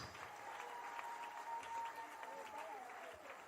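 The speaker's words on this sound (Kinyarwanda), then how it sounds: "Komera Imana amashyi." A church congregation applauds together in steady, dense clapping that holds at an even level throughout, with a sustained tone and murmuring voices mixed in.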